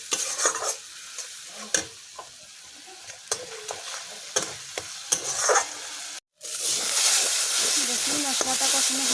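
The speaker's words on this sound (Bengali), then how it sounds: "জল দিয়ে হালকা একটু কষিয়ে নেব" Spice paste for egg curry is sautéed with a splash of water in a pan. A busy sizzle is broken by scraping stirs, then swells into a loud, steady hiss after a brief gap.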